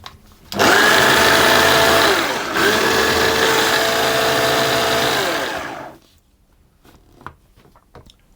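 A food processor pulses sugar and semolina for ginger shortbread in two loud bursts of whirring motor with a short break between, then stops, leaving faint clinks.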